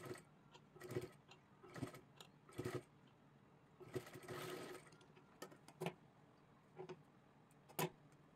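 A sewing machine stitches pleats into a blouse neck in short bursts of whirring and ticking, with pauses between runs and a few sharp clicks, close but quiet, with no talking.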